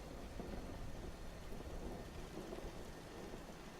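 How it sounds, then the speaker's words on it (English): A thunderstorm in a game setting: steady, dense rain hiss with low rumbling thunder rolling underneath, continuous and fairly loud throughout without any talk. "I hear a storm coming in. Is it raining out there?"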